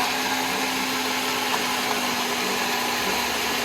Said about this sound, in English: So I'm just gonna blend the fresh fruit up a little bit